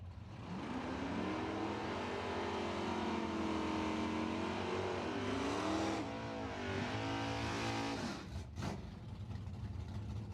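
Pontiac muscle cars, including a Le Mans, rumble up to the start lights at a drag strip during a BOP nationals event, steady loud engines with rising revs near the end, no talk.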